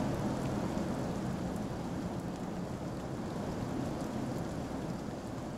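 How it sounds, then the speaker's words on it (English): Heavy rain pours in a video game, a dense, steady hiss with a low rumble of thunder underneath. It is constant and moderately loud, with no talking. "The rain is really well done, I will say that. It sounds good."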